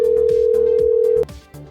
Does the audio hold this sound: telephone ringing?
yes